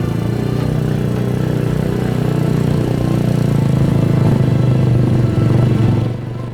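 A motorcycle loaded with sacks of gold ore heads back to a village in Indonesia, its engine running steadily and loud close by for several seconds without fading.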